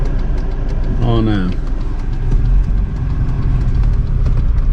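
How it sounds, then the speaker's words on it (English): Interior drone of a classic Volvo 245 on the move, a steady low engine hum with road noise throughout and a brief rising tonal sweep near the start, with a voice speaking over it. "I'm driving Nicklas Volvo 245"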